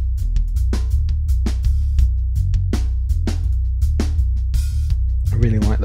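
Punchy drum machine pattern from Cubase Groove Agent with booming kicks and crisp snare and hat hits in a steady, repeating groove, loud and upfront.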